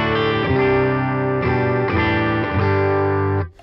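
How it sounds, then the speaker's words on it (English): Electric guitar played through a Boss ME-80 multi-effects unit on its tweed amp model: a few sustained, lightly overdriven chords ringing one after another, warm and full, then cut off abruptly at the end. "So right now that's the tweed setting."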